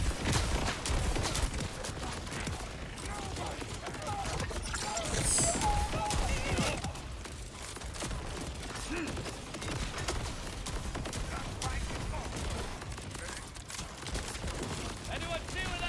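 Borderlands 4 gunfire: dense, rapid bursts of shots and crackling impacts packed together in a busy, continuous barrage of game action, loudest early on and then staying steady.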